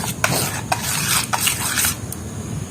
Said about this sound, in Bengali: আর একটু মিক্সড করে নেব।